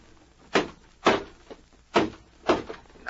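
In an old-time radio drama, a log-built cabin door is forced with a shoulder in five heavy thuds spaced about half a second apart. Each is a loud, close wooden impact with a bit of creak, and no one speaks.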